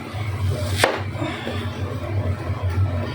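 A knife cutting onions on a board, a few scattered close thuds, one sharp cut standing out, with no talking.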